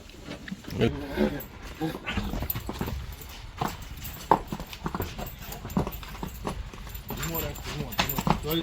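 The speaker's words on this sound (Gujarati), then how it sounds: "ઘોડી આવી ગઈ છે" A Marwari mare arrives, her hooves striking the ground in a loose, uneven clip-clop at close range, mixed with people talking nearby throughout.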